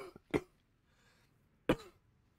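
Two sharp coughs from a person, one near the start and another about a second later, close and fairly loud against a quiet background with no talking.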